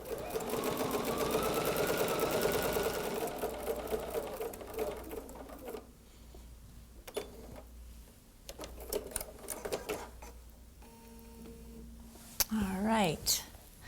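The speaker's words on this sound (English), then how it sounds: "I'm just going to start sewing." A sewing machine stitches through a quilt-as-you-go placemat in a fast, loud buzzing run that stops partway, followed by quieter handling noises and a brief whirring near the end; a person speaks softly.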